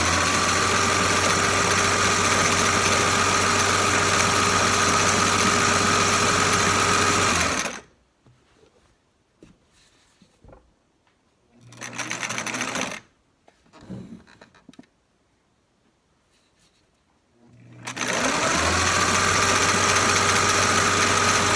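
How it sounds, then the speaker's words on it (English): A vintage Singer sewing machine stitches down a quilt seam on an antique quilt, its motor whirring in a loud, steady drone that stops for several seconds with a brief burst in between, then starts up again. "I do have another newer Singer down there, but I'm using this one for this project, and all I'm going to do is just sew right down the seam."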